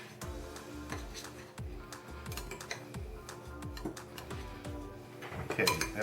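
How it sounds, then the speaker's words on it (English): Panko bread crumbs and olive oil mixed in a bowl, a steady run of rhythmic scraping clinks of a utensil against the bowl, close, ending in a louder burst of clatter. "Now I'm going to mix that in a bowl."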